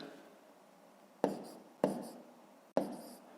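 Pen writing numbers on paper for a long division problem in a fifth-grade math exercise, three short, crisp strokes tapping down at intervals over faint room noise.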